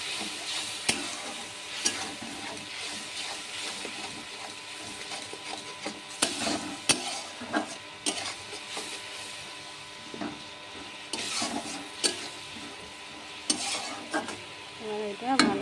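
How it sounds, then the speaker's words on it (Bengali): Spices frying in oil in a pan, with salt already in, as water is added for a crab and potato curry: steady sizzling with repeated stirring scrapes and sharp clinks of a spoon, close and fairly loud, with no talking. "এতে একটু জল দিব। লবণ দিয়ে দিয়েছি, এবার জল দিয়ে দিব।"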